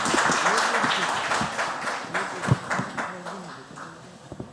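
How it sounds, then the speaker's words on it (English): Applause breaks out for a guest at an entrepreneurship conclave in Kolkata, clapping fading gradually while a voice speaks over it and a few louder claps stand out near the end. "Can we have a round of applause for Anirudh?"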